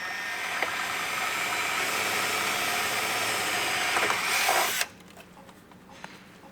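A power drill bores holes for Rokblokz fenders on a 2021 Yamaha Wolverine RMAX2 1000, a steady close whine lasting several seconds, then cutting off abruptly into a quiet background with light handling noises.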